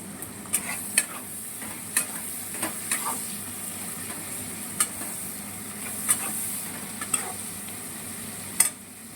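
Onions frying with salt in a pan on an induction cooktop while chicken biryani is being made, giving a steady close sizzle with repeated sharp clicks and scrapes of stirring.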